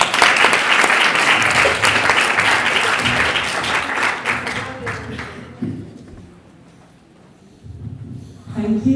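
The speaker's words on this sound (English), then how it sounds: "So with a round of applause," Audience applause at a workshop's final panel session, strong at first and then thinning out, followed by a brief lull and a little scattered clapping with some talk around it.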